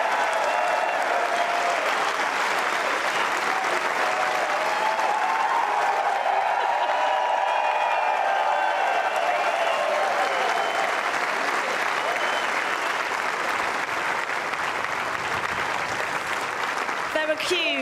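A packed crowd on Wimbledon Court 3 applauds a tennis player after a third-round win, dense sustained clapping and cheering that fills the space throughout, with some voices mixed into the roar.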